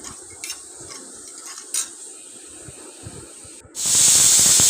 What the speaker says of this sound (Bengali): প্রেশার কুকারে সিটি পড়ে গেছে